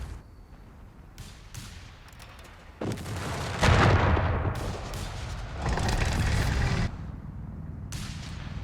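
Artillery barrages in the Company of Heroes 3 war game during a 2v2 match, a series of heavy booms and rumbling blasts, with the loudest stretch in the middle, over a quieter battle background.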